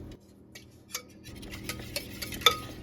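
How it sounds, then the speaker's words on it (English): Honey is whisked into sourdough focaccia dough in a bowl, giving quick light taps and clinks of a whisk against the bowl at close range. "We're gonna whisk in the honey."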